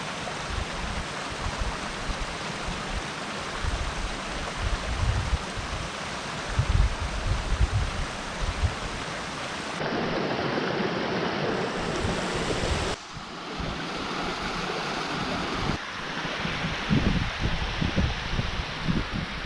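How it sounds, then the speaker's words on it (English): Loud, steady rushing of Little Aber Falls in Snowdonia, Wales, a constant roar with no voices, shifting slightly in tone partway through. "so this is Little Aber Falls"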